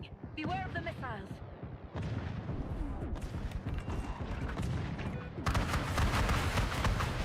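Missile strikes hit in a video game, a string of heavy booms and crackling blasts that build to a loud burst near the end, with voices talking over parts of it.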